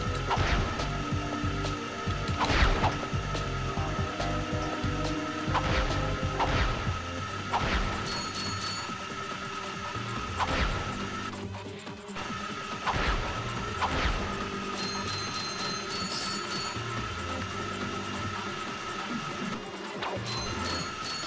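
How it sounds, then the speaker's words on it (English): Ratchet and Clank game audio with repeated sharp metallic whacks and crashes as a wrench smacks mines, layered over steady game music and mechanical clatter. "you can smack the mines here with your wrench"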